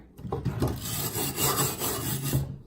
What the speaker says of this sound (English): It's just a standard steel brush.